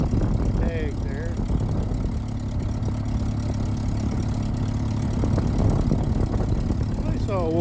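A 1951 Ferguson TEA20 tractor engine runs at a steady idle-like chug, close and fairly loud, with a brief squeaky sound near the start and end.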